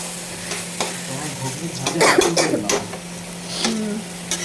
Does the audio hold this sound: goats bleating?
no